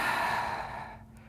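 A long, breathy exhale during a yoga session in warrior two pose, a steady airy rush fading out over about a second, close and alone with no talk.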